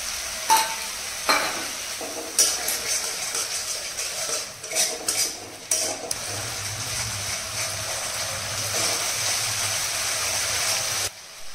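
Spices and yogurt stir-fried in a pan, with steady sizzling and frying broken by repeated scrapes and clinks of a utensil against the metal, close and continuous without talk.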